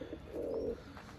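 A single soft, low coo from an old pigeon in a coop, close by and brief, over quiet background.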